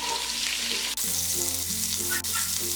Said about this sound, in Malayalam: ഇനി ഇതിലേക്ക് ഈ അരിഞ്ഞു വെച്ചിരിക്കുന്ന സവാളയും ഇഞ്ചിയും പച്ചമുളകും കൂടി ഇട്ട് വഴറ്റി കൊടുക്കാം